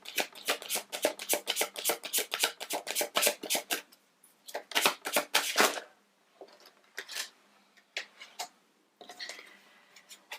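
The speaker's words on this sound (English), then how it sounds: "I am really shuffling this card" Tarot cards are shuffled close to the microphone in rapid bursts of crisp riffling clicks, a long flurry followed by shorter riffles and pauses.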